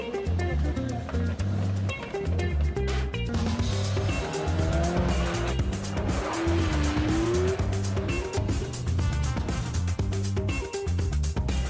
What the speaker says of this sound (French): Après quelques tours de chauffe tout en glisse sur le circuit de glace de Lens en Vercors